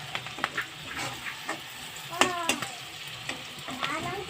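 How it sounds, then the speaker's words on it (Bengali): Chillies frying in a pan, a close, steady sizzle broken by repeated scraping stirs and a few sharper metallic scrapes. "দেখো লঙ্কাটা আমি বেশ করে মানে মিডিয়াম ভেজে নিয়েছি"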